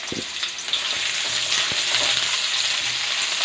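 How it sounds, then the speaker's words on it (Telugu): Onions and whole spices such as cloves, cinnamon bark and bay leaf fry in hot oil for a chicken pulao, giving a steady, close sizzle with occasional knocks of a stirring spoon. "ఇంకా అవి కొంచెం ఫ్రై అయినాక ఆనియన్స్ వేసి ఫ్రై"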